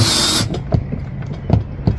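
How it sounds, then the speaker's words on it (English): A clamp is ratcheted down tight on wood in a handful of sharp, close clicks after a short burst of hiss. "We'll clamp this one down too, just because."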